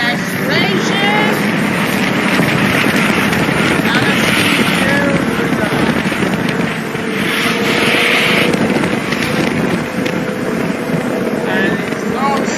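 A Nissan GT-R accelerating on a snowy road gives a loud, steady broadband roar mixed with heavy wind buffeting, sustained without a break.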